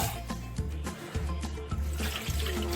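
Beef short ribs being rinsed under running tap water, a loud, close, continuous splashing stream with irregular thumps and surges as the meat is moved about beneath it.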